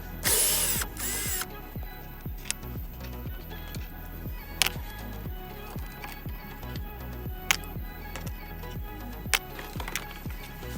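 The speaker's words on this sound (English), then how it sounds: "To remove the bolts for the regulator, we're going to use a T27 bit." Power drill with a T27 Torx bit backing out window regulator bolts on a 2014 Chrysler Town and Country, close up: short whirring bursts with ratcheting clicks and sharp ticks, a harsh high burst near the start.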